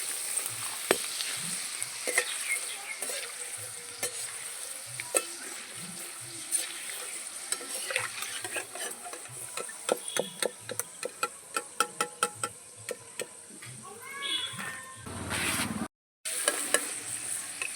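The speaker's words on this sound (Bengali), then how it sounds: "আবারও দিয়ে দিলাম ফুলকপিগুলো কড়াইতে আর দেখুন কত সুন্দরভাবে ভাজা হয়ে যাচ্ছে" Cauliflower pieces fry in hot oil in a wok over medium heat, giving a steady close sizzle broken by scattered crackles and sharp clicks of a utensil against the pan.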